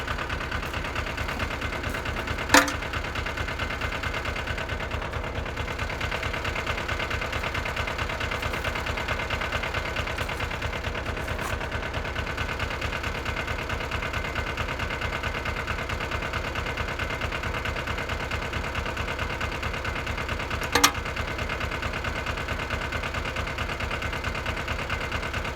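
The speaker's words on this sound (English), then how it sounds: "so definitely a foreign tractor, but it runs pretty good, as you can hear" A small foreign-made tractor engine idles steadily up close, a continuous even chug with a faint rhythmic knock, broken only by two brief sharp clicks.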